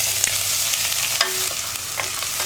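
Ginger, green chili and garlic hit hot oil in a pan, giving a steady close sizzle with scattered crackles and a few stirring scrapes, no talking.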